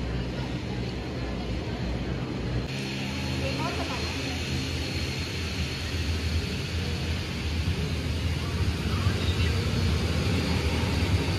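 SpiceJet airliner engine spooling up at an airport, a steady loud jet roar with broadband rumble that builds slightly over the span.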